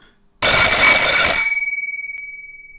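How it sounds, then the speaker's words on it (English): An old Express Lifts floor lantern bell rings loudly and continuously on AC voltage for about a second, its bright metallic tone then cutting out and decaying with a rapid pulsing ring-off, alone with no talk. "that bell is just ringing, and that will be because of the 50 volt ripple"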